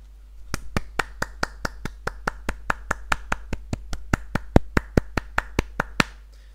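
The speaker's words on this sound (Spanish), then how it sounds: "Aplausos. Aplausos." Sharp, evenly spaced claps in a quick steady rhythm, about two dozen in a row, crisp and close with no voices.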